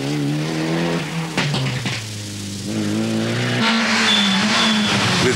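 Mitsubishi Lancer rally car at the 1996 Tour of Flanders in Belgium, engine loud and close, with pitch shifting through gear changes and a high tire squeal near the end.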